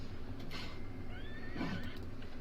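A horse in The Sims 4 Horse Ranch video game gives a clear whinnying neigh against a steady game soundtrack, with a faint clop of hooves.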